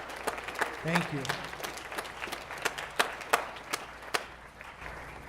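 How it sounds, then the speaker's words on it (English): Scattered audience clapping for a symphonic band at a winter band concert, a moderate round of distinct claps that thins out toward the end, with a voice speaking briefly over it. "How about a round of applause for our symphonic band?"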